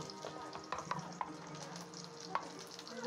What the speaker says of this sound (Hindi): हाँ ये अब ज़ीरा डालूँगी